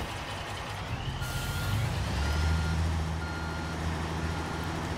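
A truck in Construction Simulator reversing during a gravel delivery, giving steady repeated reversing beeps over a loud, rumbling engine, close up and continuous throughout, with no talking.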